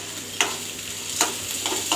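Onion, green chili, curry leaves, peanuts and dal sautéing in a pan, a steady soft sizzle broken by four sharp scraping stir strokes, close and alone.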